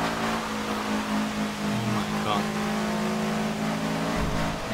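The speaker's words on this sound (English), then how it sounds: "I drive at 400 kilometers per hour in Forza Horizon 2" An all-wheel-drive car revs continuously in the Forza Horizon 2 racing game on a rainy day, a loud sustained engine drone with shifting pitch, and people talk over it.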